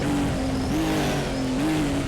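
A classic four-wheel-drive touring car in Raceroom Racing Experience at Sonoma, its engine holding a loud, steady high drone with slight pitch shifts as the throttle is worked through a corner, with no talk over it.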